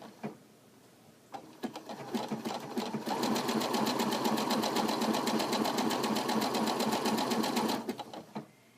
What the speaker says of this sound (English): I'll sew with my sewing machine right on top of it